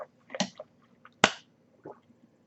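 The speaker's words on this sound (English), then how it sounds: "I wonder if those mouth noises got on the swishing" Wet mouth noises from swishing Glenmorangie Special Wine Cask Finish whisky, a few close, sharp smacks and clicks separated by silence, with no talking.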